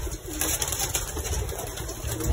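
Breeder pigeon hens coo softly and briefly close by amid a busy loft hum, with a faint flutter of wings.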